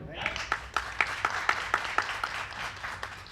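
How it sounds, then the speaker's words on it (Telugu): A crowd claps in a loose, steady rhythm, the hand claps coming in sharp bursts roughly every half second over a murmuring background. "రైట్ అయితే గట్టిగా చప్పట్లు కొట్టండి"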